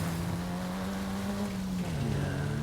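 Ford Focus RS engine in a racing video game, a steady, loud, sustained drone with a held tone that dips slightly in pitch near the end, continuous and alone without talk.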